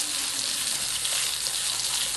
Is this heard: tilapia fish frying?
yes